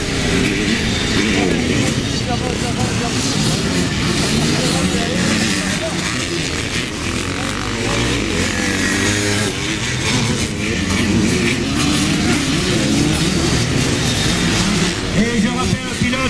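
A vintage four-stroke Nusbarna motorcycle engine runs steadily and loudly throughout, a continuous droning rumble with a public-address announcer talking over it at a classic motorcycle race meeting.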